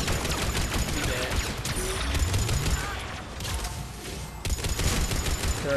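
Turret gunfire in Mass Effect 3 co-op multiplayer, a steady, dense stream of automatic shots mixed with explosions and other battle noise, loud and continuous throughout.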